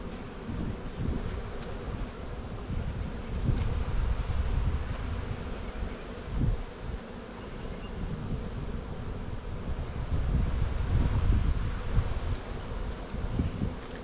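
Honeybees hum around an opened hive during a spring inspection, a low continuous buzz mixed with wind rumble and rustling, with no voices.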